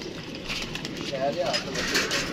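A pigeon on a rooftop loft coos softly, its brief low calls faint amid steady background noise.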